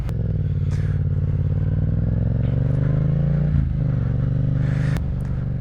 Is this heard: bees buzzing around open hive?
no